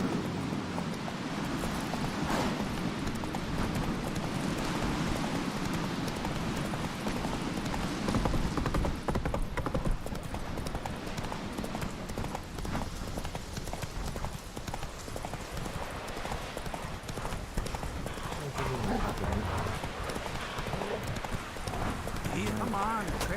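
Roach the horse galloping in The Witcher 3, a continuous rapid drumming of hoofbeats over a dense game soundscape, with voices talking throughout.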